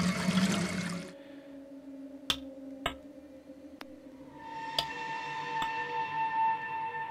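A splash and gurgle of water in a bucket from the puzzle game Rusty Lake Underground Blossom, followed by sparse clicks and soft sustained tones in a quiet game scene.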